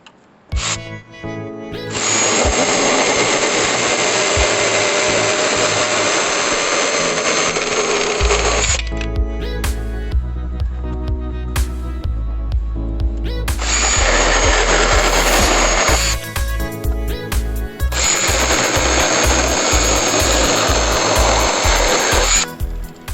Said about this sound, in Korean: 남는 부분은 이거 필요 없으니까 여기를 잘라내도록 하겠습니다